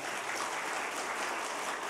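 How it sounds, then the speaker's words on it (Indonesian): A church congregation at a worship service claps steadily, a dense and even wash of applause with no voices over it. "Kita beri tepuk tangan dong untuk Tuhan kita."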